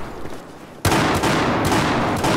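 Gunfire in Battlefield 4 close-quarters conquest on Operation Locker, a sudden loud burst of rapid automatic shots that carries on densely after a quieter lead-in.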